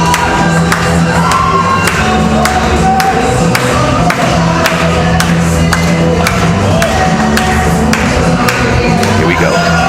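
A crowd at a powerlifting competition cheers and claps steadily, loud and continuous, with scattered thuds and taps from the platform and a commentator talking over it.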